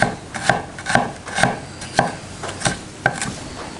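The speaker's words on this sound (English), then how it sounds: "Tuck your fingers away when you're chopping" A sharp knife chops food on a board at a camp kitchen, about seven crisp, evenly spaced knocks ringing out close and clear with no talking.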